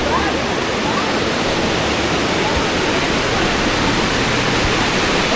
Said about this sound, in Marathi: हे पोर्टवरचं पूर्ण पाणी आता अर्धा तास झालेला आहे, पाऊस पडलेला आहे आणि फ्लो बघा पाण्याचा.